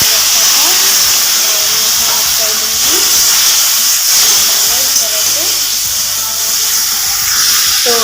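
Chopped tomatoes hit a hot pan of fried ginger and garlic, giving a steady, loud hiss and sizzle that runs the whole time beneath a woman's speech.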